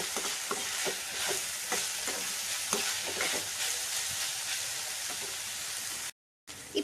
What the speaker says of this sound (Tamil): இப்போ வந்து இது கொஞ்சம் ஃப்ரை ஆயிடுச்சு